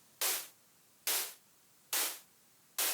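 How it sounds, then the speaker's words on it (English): Four bright bursts of white noise used as a splash drum effect in melodic dubstep, each swelling up and fading quickly, evenly spaced about a second apart like splashy percussion hits. "Also, you can add some white noise splashes like this."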